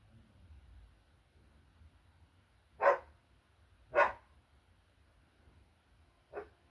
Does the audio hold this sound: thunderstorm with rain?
no